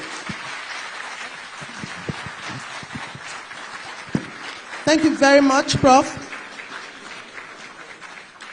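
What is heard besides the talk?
warm applause from audience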